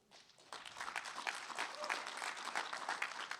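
An audience at a startup pitch competition applauds, a soft, fairly distant patter of many hands that rises after a quiet start and holds steady.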